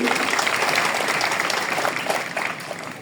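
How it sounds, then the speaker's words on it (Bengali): Students at a school assembly clap together loudly and steadily for about three seconds before the applause begins to fade. "তাদের জন্য জোরে একটা করতালি"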